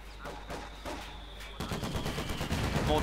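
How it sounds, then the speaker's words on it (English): Mortar rounds and gunfire from a Company of Heroes 2 1v1 match rumble at moderate loudness, with muffled thumps first and then a denser crackling stream of shots in the second half, with no talking. "Mortar going down there."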